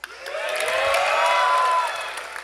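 A large convention crowd at PAX West in a Borderlands 4 developer panel cheers, whoops and applauds, the roar swelling to a loud peak and then tapering off.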